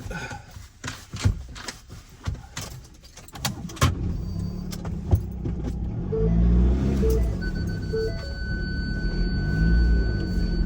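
Van in arctic conditions accelerating with a failing wheel bearing, beginning with scattered clicks and knocks, then a low droning rumble that swells as speed builds, with a steady electronic tone from parking sensors.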